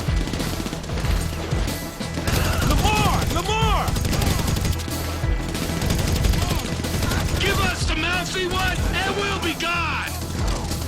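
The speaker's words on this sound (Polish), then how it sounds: "Ten już dostał kilka strzałów" Gunfire in the video game GTA V, with repeated bursts and sharp shots crashing over a busy mix of game music and effects, loud and continuous, while a player talks throughout.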